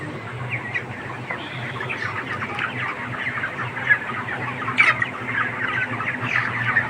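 Broiler chickens about 27 days old cluck and squawk in a poultry shed with wall-mounted exhaust fans, a busy overlapping chorus of many birds over a steady low fan hum.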